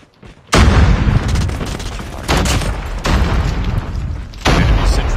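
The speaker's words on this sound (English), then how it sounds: "Hostile sentry gun in your AO." An enemy sentry gun fires in the Call of Duty Mobile video game: loud, close bursts of rapid automatic gunfire with booming impacts, coming in several heavy volleys separated by brief lulls.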